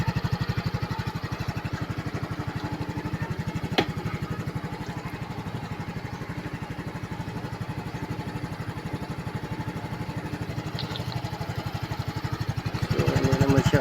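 A Yamaha Mio scooter that went through floodwater runs steadily to warm its carburetor, a close, rapid, even putter of a small single-cylinder engine with a sharp click partway and a rise in level near the end.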